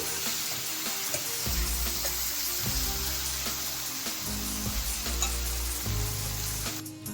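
Chopped tomatoes sizzle and fry in a hot pan for pav bhaji, a steady loud hiss with intermittent stirring scrapes, no talking.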